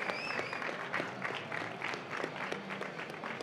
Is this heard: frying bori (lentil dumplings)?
no